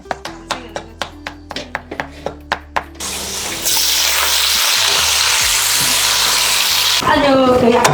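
Vegetables stir-fried in a pan, opening with a series of rhythmic scraping strokes of the spatula, then a loud continuous hiss and sizzle as ingredients hit the hot oil, close and dominant.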